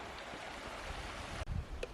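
A mountain spring flowing out of the hillside on an alpine meadow, a soft steady trickle and rush of water heard faintly and evenly throughout, with a brief low bump near the end.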